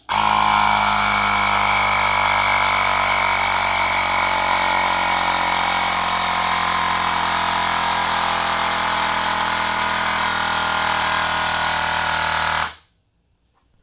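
Electric air pump inflating an eScooter tire runs as a steady, loud whine for about twelve seconds, then cuts off abruptly into near silence.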